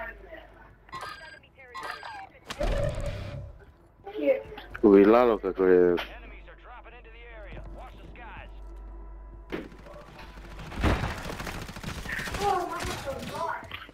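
Bursts of rapid gunfire in Call of Duty MW3 Resurgence, loud and close, crackling in clusters between tonal game effects and an excited voice talking over the action.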